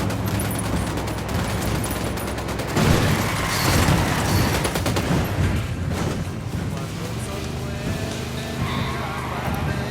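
A heavy barrage of rapid gunfire in Ghost Recon Wildlands rattles loud and close, rising to a thick crescendo before thinning out, with voices talking amid the shooting.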